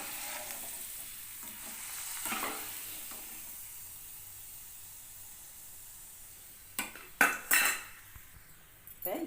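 Snake gourd bhajji deep frying in hot oil gives a low, steady hiss. Near the end, a few sharp clinks of a utensil ring out as the fried pieces are lifted out. No one speaks.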